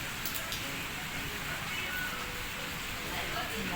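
Heavy rain pouring down steadily, a dense broadband hiss that stays constant and fairly loud throughout, with no break in the downpour.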